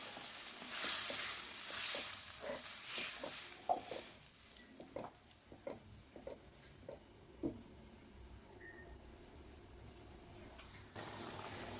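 Egg roast gravy bubbling in a pan, with soft irregular pops and gentle sizzling at low volume, fading into a quiet simmer with no talk.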